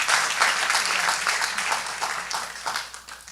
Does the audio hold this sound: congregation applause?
yes